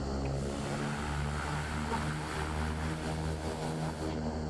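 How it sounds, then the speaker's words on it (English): Continuous droning turboprop engine and propeller hum of a King Air during a reverse-thrust check in a flight simulator, steady and fairly quiet throughout. "let's do a little reverser check"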